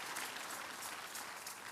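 Faint, distant applause from a church congregation at an evening worship service, a steady wash of clapping throughout.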